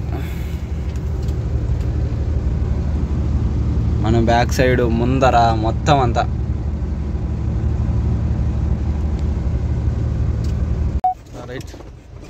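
Heavy road traffic on a mountain road in Kashmir, with a steady low engine rumble and vehicle drone running throughout; someone talks over it briefly in the middle, and a short tonal beep or horn sounds near the end.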